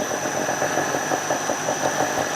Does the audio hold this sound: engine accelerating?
yes